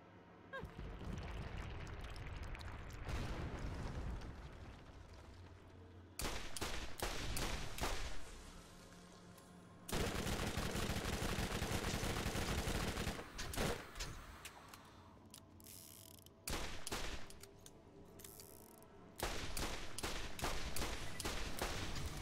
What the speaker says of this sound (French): Je vais te montrer la puissance du flingue